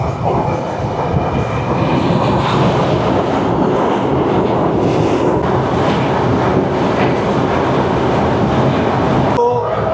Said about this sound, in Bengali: আমরা যমুনা সেতু পার হচ্ছি ট্রেন দিয়ে